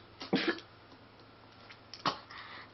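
Two short bursts of coughing from a person nearby, fairly faint, a second apart over a quiet background hum.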